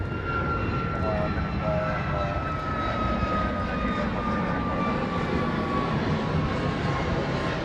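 A jet aircraft on short final at Honolulu airport, a steady, loud engine roar with a high whine running throughout, heard over radio-style talk from air traffic control.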